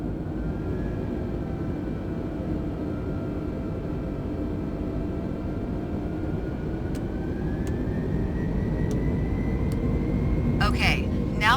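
Airliner jet engines in Flight Simulator spool up for takeoff as the thrust levers advance toward the flex detent, a steady loud roar with a slowly rising whine, plus a few short clicks near the end.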